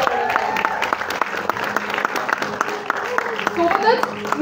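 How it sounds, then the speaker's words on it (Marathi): Loud, sustained audience applause at a Marathi film trailer launch event: dense crowd clapping with sharp individual claps standing out, continuing throughout without a break. "जोरदार टाळ्या"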